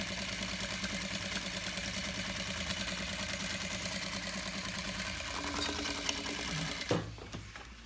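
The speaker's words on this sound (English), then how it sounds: "I'm gonna do a three layer too, just to see if would it really sew." Industrial sewing machine stitching through three layers of 1 mm vinyl, a fast steady mechanical chatter with rhythmic needle ticking and motor whir, ending abruptly with a brief clunk as it stops.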